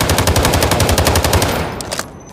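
Rapid automatic fire from a QBZ rifle with a thermal scope in Delta Force, a loud steady burst of evenly spaced shots lasting over a second, then a few trailing single shots fading out.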